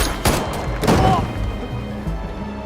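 Police gunfire in a film scene goes off as a couple of sharp, heavy shots, followed by thuds and a rumbling, echoing tail that fades over a few seconds.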